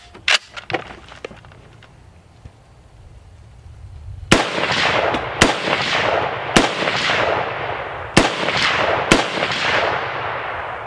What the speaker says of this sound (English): So I'm gonna do 5 shots with that, and then we're gonna do 5 shots onto my accuracy target.